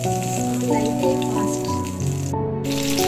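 Pabda fish frying in hot oil in a pan, a steady close sizzle running throughout with a music bed layered over it.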